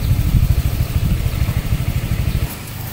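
Honda Vario 125 scooter fitted with a PCX front pulley, its engine idling close by with a low, rapid pulsing chug that drops off near the end.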